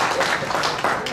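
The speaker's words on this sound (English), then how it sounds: "Round of applause," A short burst of audience applause, dense clapping from a crowd at a quiz event, heard briefly at full volume.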